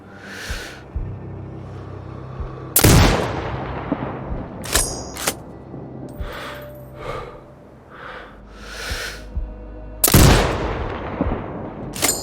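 Sniper rifle shots in Sniper Ghost Warrior Contracts 2 ring out as two loud, sharp cracks several seconds apart, with quieter breathing and rustling in between.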